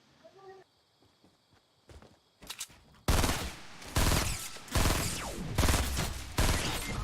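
Rapid gunfire bursts in the video game Fortnite, several loud sustained volleys that start abruptly after a quieter stretch of scattered game noises and footsteps.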